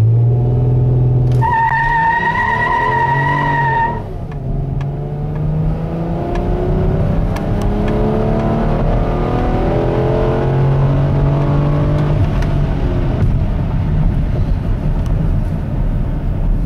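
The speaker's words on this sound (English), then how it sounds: "let's see how the Kia Sedona minivan accelerates from 0 to whatever I can run it out to before I have to nail the brakes at the end of this block" A 2010 Kia Sedona minivan accelerates hard from a standstill, a short electronic tone sounding early on as the engine note climbs repeatedly through rising sweeps, loud and sustained.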